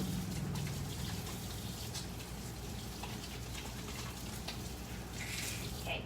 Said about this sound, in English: Okay, real quick, wash your hands.